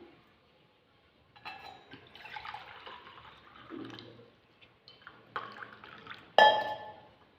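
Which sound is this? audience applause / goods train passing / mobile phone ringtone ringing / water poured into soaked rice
water poured into soaked rice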